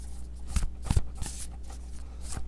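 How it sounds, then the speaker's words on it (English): Tarot cards shuffled by hand during a psychic reading, giving soft papery riffles and a few sharper slaps close by, with no talking over them. "I'm going to pull a few more cards."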